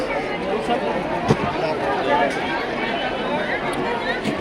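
Dense crowd hubbub at the busy Malad wholesale fish market, a steady wash of overlapping voices and haggling close around, with a few brief knocks and clatters rising out of the din.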